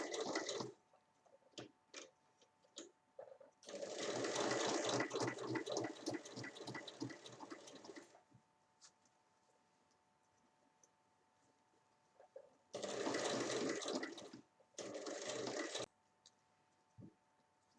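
Sewing machine stitching a cloth cover for a small hair straightener, fairly faint, in short rapid runs of stitching separated by pauses, one long run in the middle.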